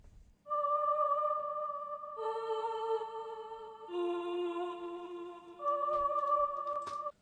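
Choir pad for a beat, sustained layered vocal chords that shift in blocks every couple of seconds, smooth and steady, up close with no speech.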